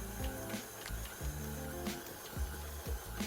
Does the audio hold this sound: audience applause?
no